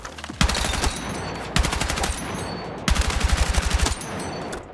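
Bursts of automatic gunfire from a compensator-equipped weapon build in the video game Battlefield 6, with four loud, rapid strings of shots broken by brief pauses and ringing high tones between them.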